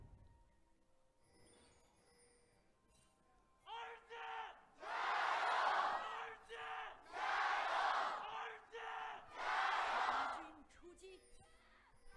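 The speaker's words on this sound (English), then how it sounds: "Alright, settle down, crowd." A packed esports arena crowd at an LPL Spring Split match between RNG and EDG cheers and roars in several loud surging waves, rising after a quieter start.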